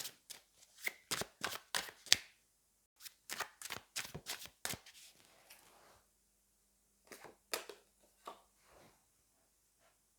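Tarot cards riffled and snapped in quick crisp bursts, a flurry of close shuffling, then a short pause and a few more soft card flicks as a card is drawn.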